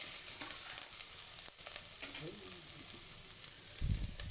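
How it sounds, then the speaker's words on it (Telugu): Bitter gourd pieces sizzle steadily in a hot pan of oil for an Andhra-style curry, a faint continuous frying hiss with small crackles and a brief stir near the end. "ఇప్పుడు ఇందులో కాకరకాయ ముక్కలు వేసుకుందాం"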